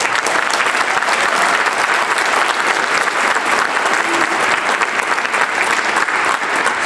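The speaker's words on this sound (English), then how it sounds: "can we give them a hand clap, please?" Sustained applause from a concert audience for a 9th and 10th grade honors band at a high school, a dense, steady wash of clapping that holds at an even level throughout with no clear voices.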